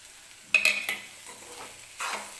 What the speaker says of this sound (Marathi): भेंडी व्यवस्थित मिक्स करून घेऊन गॅस बंद करून घेते